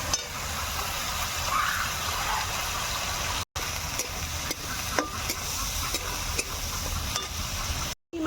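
Finely chopped prawns fry and sizzle in a pan while a spoon stirs and scrapes through them, with a steady hiss and light repeated scraping.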